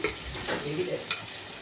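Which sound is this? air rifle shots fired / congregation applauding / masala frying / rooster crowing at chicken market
masala frying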